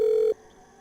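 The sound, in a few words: telephone call failing in horror video game Harmony of Fear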